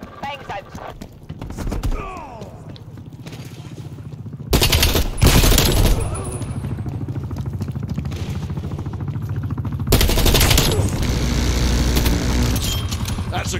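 In Call of Duty Black Ops Cold War, an attack helicopter fires loud bursts of rapid automatic gunfire close by, in two main volleys separated by quieter stretches, with voices talking over the action.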